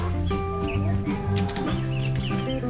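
Several chickens clucking and chattering together nearby, continuous overlapping calls with a busy farmyard feel.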